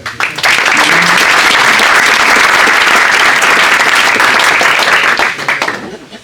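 Loud, sustained applause from a conference audience at a mountain-work colloquium in Albertville, swelling quickly and holding steady for several seconds before tapering off.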